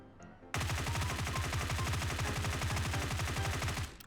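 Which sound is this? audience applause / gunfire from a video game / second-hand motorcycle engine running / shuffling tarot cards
gunfire from a video game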